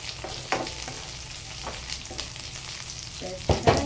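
Pechay leaves dropped into a pot of coconut-milk vegetable stew with kikiam, with a steady background sizzle and a few soft clunks and rustles as the greens go in, ending in a louder splash-like clatter.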